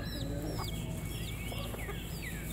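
Two small silkie roosters squabble close by, giving repeated sharp clucks and short squawks over a steady outdoor background, with no talk.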